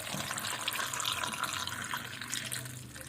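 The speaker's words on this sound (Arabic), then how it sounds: "هنحط ميه الليمون" Lemon water pours steadily into a jar in a continuous splashing rush, close by, with a slight rise in pitch as the jar fills.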